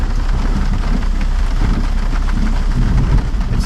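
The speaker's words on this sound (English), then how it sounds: "It's thundering, it's lightning out." Heavy rain pours steadily during a thunderstorm on a steep trail, a dense close hiss with low thunder rumbling beneath it and no voices.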